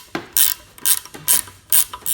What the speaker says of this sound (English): Even though you can't get into these two bottom ones with a socket, you can use a ratchet wrench.